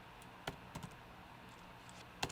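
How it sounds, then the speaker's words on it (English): Keystrokes on a computer keyboard while writing Python code, a few sparse, quiet clicks spread across the moment with a faint hum underneath and no talking. "notice I'm going to be typing this elif or distance many times"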